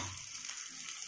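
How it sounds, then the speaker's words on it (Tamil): Chilies sauté in a hot pan for a village-style dal and greens dish, giving a steady, close broadband sizzle that holds evenly for the whole moment with no talk over it. "கொஞ்சம் வதக்கிறோம்."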